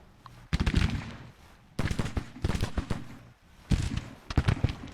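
Cannon fire in a Civil War strategy battle from Grand Tactician, heard as loud clustered bursts of booming reports and crackling volleys arriving in three waves with brief lulls between.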